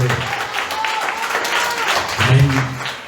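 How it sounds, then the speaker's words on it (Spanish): A church congregation applauding during a service, a moderate clapping wash mixed with voices and some tonal sound, steady across the moment with a slight swell near the end. "den un aplauso al Señor"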